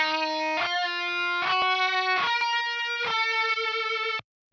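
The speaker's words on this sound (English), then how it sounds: "And then we have the 2 guitar tracks with some kind of radio sound." Two layered electric guitar tracks processed with a thin, band-limited radio-style effect play sustained, bright distorted chords and notes that change every second or so, loud and close, ending abruptly in silence.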